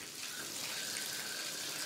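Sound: tap water filling a bath

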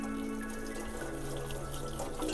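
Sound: low pressure fanned water rinsing roots in a sieve

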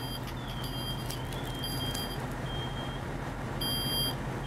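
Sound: smoke detector alarm beeping

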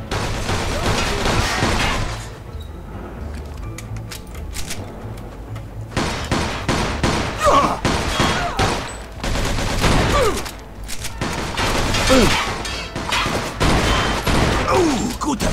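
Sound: gunfire in Mafia II video game

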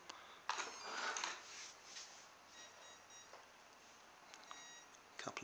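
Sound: electronic speed controller beeping

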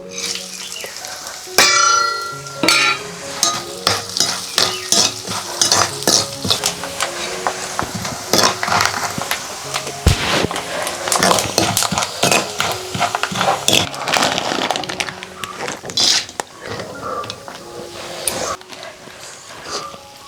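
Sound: coconut pieces frying in ghee in a pan

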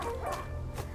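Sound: dog barking in video game A Plague Tale: Innocence

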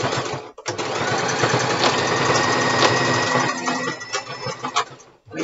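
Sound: sewing machine stitching forward and backward on mask elastic

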